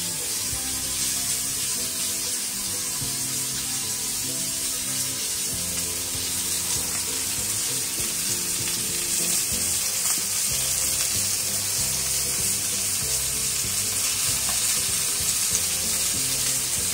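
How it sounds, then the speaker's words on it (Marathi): Pomfret fish fries in oil over medium gas heat, a steady close crackling sizzle that holds evenly for the whole stretch without speech. "आणि हे पापलेट आपल्याला मीडियम गॅसवरती फ्राय करायचे."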